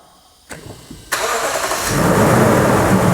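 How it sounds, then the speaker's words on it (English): A Toyota car engine cranks briefly with a couple of clicks, then catches and settles into a loud, steady idle, heard close up with no talking. "So go ahead and start the car."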